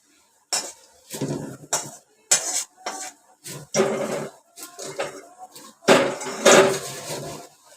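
Spiced puffed rice (bhadang) with Malvani green masala being tossed and mixed in a pan, a string of sharp metallic scrapes and clinks of a spoon against the pan in irregular bursts, close and clear with no talk.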